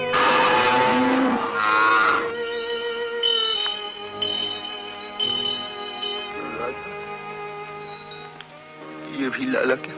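Bullocks in an old Indian film scene low and moo over a music soundtrack, with a deep bovine call near the start and another later, while voices speak in between.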